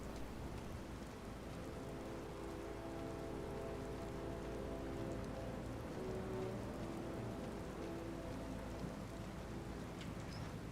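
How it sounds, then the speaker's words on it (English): Rainfall over the stone city of Markarth in Skyrim, a steady, soft hiss of rain on surfaces with a low rumbling bed beneath, continuous and even throughout with no voices. "Rainy day in the City of Stone."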